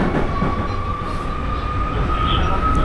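A Berlin metro train rumbles steadily into a station, with a loud broadband roar of wheels and a thin high whine running throughout.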